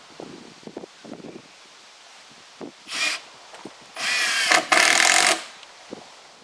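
A power drill drives screws into dark-stained cedar siding, with short whirring bursts near 3 s and a longer pair of runs from 4 to 5.3 s, plus light handling noises and scuffs between them.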